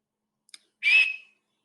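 A whistle sounds one short, sharp, shrill blast to start a children's race, preceded by a couple of faint clicks, with nothing else around it.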